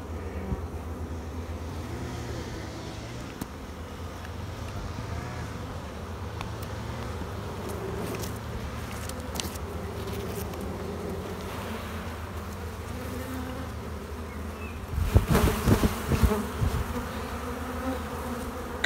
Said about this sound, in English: Got to shake the bees off.